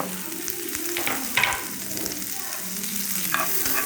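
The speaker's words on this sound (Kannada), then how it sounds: "ಇದನ್ನು ತುಪ್ಪದಲ್ಲೇ ಫ್ರೈ ಮಾಡಬೇಕು" Vine leaves fry in ghee in a pan on a stove, giving a steady close sizzle with stirring scrapes and a couple of sharper crackles, and no talking.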